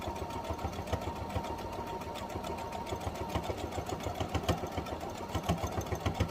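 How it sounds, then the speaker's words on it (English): A sewing machine stitching an infinity scarf, a steady close mechanical hum with rapid rhythmic needle chatter running continuously throughout. "And just continue to sew."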